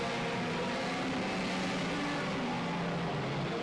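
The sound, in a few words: race car engine at a dirt racetrack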